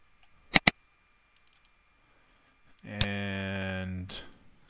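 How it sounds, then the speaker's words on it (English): Two quick computer mouse clicks close together, crisp and near, on an otherwise quiet desk, followed by a person speaking. "I double click to bring it over."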